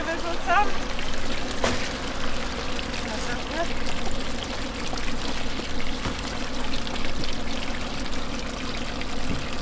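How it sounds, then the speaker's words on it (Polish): Grey water drains from a camper van's tank in a snowy spot, making a steady, close gushing pour that runs continuously throughout, with voices talking over it at moments. "szara woda zlana"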